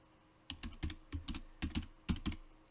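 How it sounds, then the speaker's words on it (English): Fingers type a short string on a computer keyboard, about a dozen crisp, close key clacks in quick irregular bursts over a quiet room background. "We just need to type in the first few characters of the parameter"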